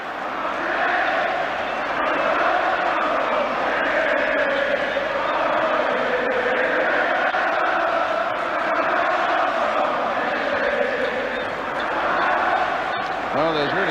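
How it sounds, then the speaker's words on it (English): A Wembley football crowd roars steadily, cheering and celebrating after an England goal against Northern Ireland. A commentator talks over the dense, sustained wash of the distant crowd. "there's really something for the Wembley crowd to cheer and to celebrate, and they're doing just that"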